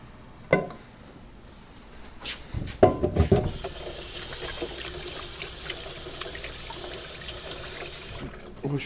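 Water runs steadily from a kitchen tap for handwashing, a continuous broadband hiss that starts after a few brief clatters and knocks and carries on for several seconds before cutting off.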